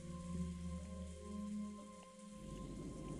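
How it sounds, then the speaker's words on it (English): Heavy rain with wind from a typhoon scene in the Umineko When They Cry visual novel, a steady broadband wash over low tonal music, the rain thickening toward the end. "It's raining and windy, typhoon"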